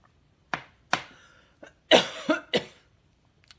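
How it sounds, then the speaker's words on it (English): A person coughs in a series of short, sharp bursts, six or so spaced over a few seconds, close and loud with quiet gaps between. "and then it goes down the wrong throat, and then I'm coughing again"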